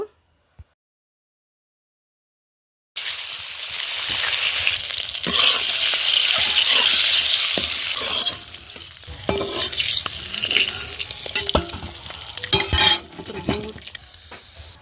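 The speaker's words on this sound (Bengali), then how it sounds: "প্রথমে লবণ আর হলুদ দিয়ে ডিমটা ভেজে নেব" Eggs frying with salt and turmeric in a pan, starting after a few seconds of near silence as a loud, steady sizzle, later joined by stirring scrapes and metal clinks.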